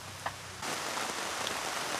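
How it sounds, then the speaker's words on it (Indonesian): Heavy rain starts abruptly after a short quiet moment, then a dense, steady hiss of drops pounds a surface. "Oh, itu gede we hujan geuning dah."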